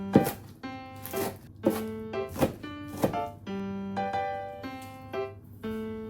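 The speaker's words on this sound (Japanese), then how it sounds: "粗みじん切りで切っていこうと思います" Steady knife chops coarsely cutting vegetables on a cutting board, about one or two per second, close and fairly loud, with no voices.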